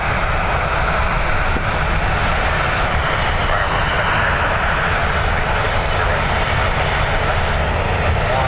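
A Ryanair jet at Dublin Airport produces a loud, continuous engine roar that holds steady throughout, with no voices over it.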